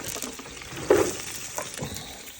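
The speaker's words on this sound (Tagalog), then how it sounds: "So I start now frying the onion" Onion and garlic frying in a pan with a steady, soft sizzle, plus a brief louder clatter of stirring near the middle; no voices.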